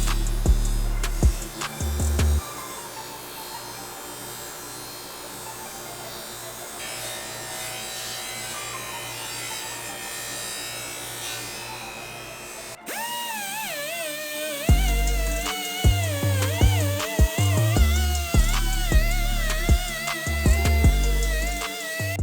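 A bench grinder's fine buffing wheel polishes the exhaust pipe of an RM250 motorcycle, giving a steady motor whir and rubbing hiss. It drops briefly midway, then returns with shifting pitch and bursts of louder contact.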